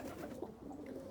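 Pigeons coo softly on a day after snow, low throaty calls repeating in a gentle rhythm, faint and close against a quiet background.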